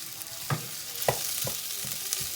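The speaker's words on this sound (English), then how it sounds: "I'll now just fry this onion to light brown" Onion frying to light brown in a pan for a spinach curry, a steady soft sizzle with a few sharper stirring scrapes and clicks spaced through it, close and moderately quiet with no talk.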